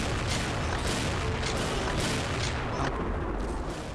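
Cold Roar M82A1 sniper rifle firing in the shooter game XSHOT, a dense, rumbling wash of heavy gunshots and booming blasts that carries on steadily throughout.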